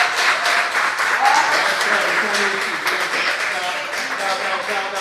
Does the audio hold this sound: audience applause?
yes